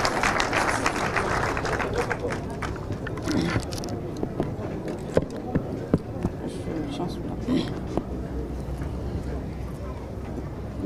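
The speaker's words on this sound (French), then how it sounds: "Encore sous vos applaudissements honorés." An audience at an official ceremony applauds to welcome the First Lady, a steady, dense patter of clapping heard at a moderate distance that carries on throughout.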